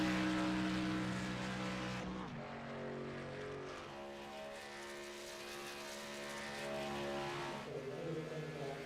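Race car engine at Daytona speedway during night qualifying, a loud sustained roar with harmonic pitch that drops as the car passes, then steady drone continuing at full volume.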